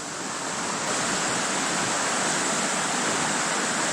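Water flows steadily in a trout-fishing river, making a continuous broadband rush that stays even in loudness throughout, with no voices.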